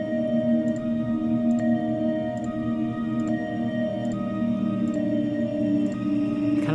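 A bell-like synth tone shaped by a KHS resonator rings with sustained, shimmering partials, while faint regular ticks pulse through it at a steady moderate level.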